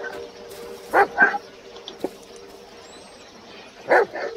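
A dog in the Blair Witch video game gives a few short, close barks, a pair near the start and another later, over a quiet ambient background.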